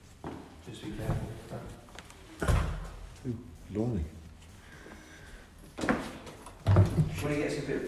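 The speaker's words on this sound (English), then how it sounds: "Have you felt how heavy these doors are?" Heavy old doors in an abandoned theatre built in 1911 are shoved open, producing dull thumps, scrapes and creaks spread through a reverberant space while people talk and exclaim nearby.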